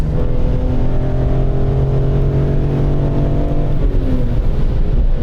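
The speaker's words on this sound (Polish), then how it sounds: "dokręcasz ten silnik i od razu pojawia się uśmiech na twarzy" A loud, steady BMW M3 E46 engine drone with rising harmonic pitch as it revs, then a slight drop near the end, heard from close by.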